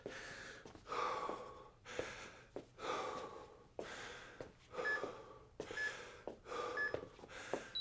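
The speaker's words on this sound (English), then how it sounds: "deep breath." Repeated heavy breaths during a bodyweight HIIT workout, a steady series of about seven loud inhales and exhales at close range, roughly one per second, with faint electronic beeps in between.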